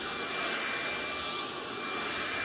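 A loud, steady suction roar from a pet grooming vacuum runs throughout, with a bright whine and grainy rattle of small crumbs and beads being pulled in.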